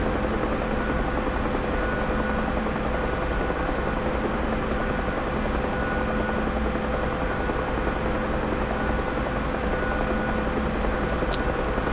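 A military helicopter in a combat flight simulator flies low beneath power lines, its steady rotor and turbine drone loud and constant throughout, with no voices.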